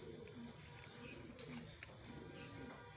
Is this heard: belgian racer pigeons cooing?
yes